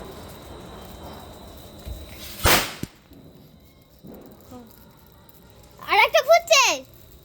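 Firecrackers bursting at a Kali Puja evening celebration at home: one sharp crack near the middle, a fainter pop later, then a brief fizzing whistle, with a voice nearby.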